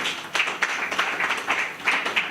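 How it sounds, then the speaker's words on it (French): A crowd at a political rally for President Félix Tshisekedi applauds, with steady clapping from many hands and rhythmic accents throughout. "Si c'est vrai, applaudissons."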